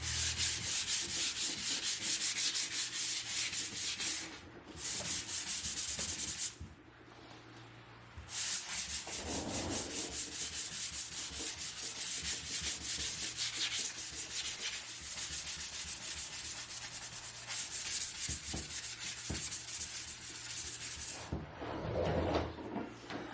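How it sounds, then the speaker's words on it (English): A damp rag is rubbed over a sealed, chalk-painted wooden blanket chest in long, repeated scrubbing strokes, loud and close, with a couple of brief pauses between passes. "I'm going to wipe it down with like a damp rag to get all this excess off."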